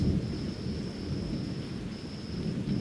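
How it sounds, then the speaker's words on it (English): Thunder from an approaching storm on a farm rolls as a steady low rumble with rain noise, continuous and fairly loud, no voices. "we have got a storm coming through"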